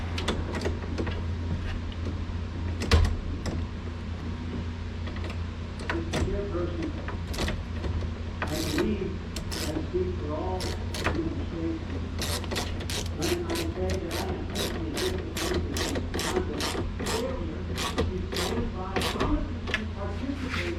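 A ratchet tightens bolts on a 2000 Chevrolet Silverado window regulator inside the door, producing repeated bursts of quick clicking over a low steady hum, with a quiet voice now and then.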